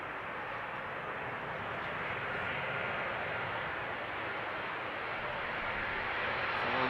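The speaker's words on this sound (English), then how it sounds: "next up is a 737 from Transavia inbound Barcelona, 20 years old" A 20-year-old Transavia Boeing 737 from Barcelona arriving at Amsterdam Schiphol, its steady broadband engine rumble holding fairly faint and even, without talk.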